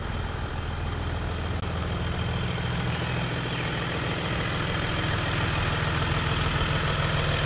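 A Jeep Wrangler JL on 37-inch Nitto Trail Grappler tires and Teraflex Nomad wheels runs as it pulls out of a shop, a steady, close, low engine drone with no break.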